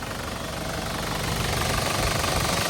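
A 2005 Isuzu D-Max 2.5 Ddi SLX Turbo diesel engine idles close by, a steady, loud, rattling clatter with an even, rapid knock and no other sounds.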